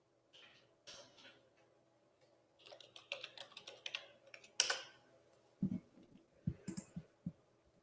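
Username and password being typed on a computer keyboard, bursts of quick light key clicks with pauses between, a few heavier taps near the end, close and quiet.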